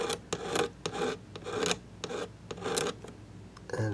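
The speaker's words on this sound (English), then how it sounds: "maybe I'll scrape on a couple of these with a blade real lightly, just to get the top" A blade scrapes lightly across the finish of a Silvertone guitar in a series of short rasping strokes, close and fairly loud, with a brief low hum near the end.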